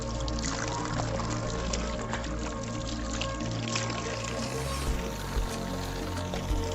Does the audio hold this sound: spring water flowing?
yes